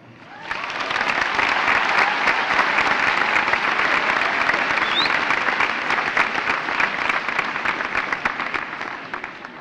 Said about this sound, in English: please give a massive round of applause to the teachers and parents in the crowd today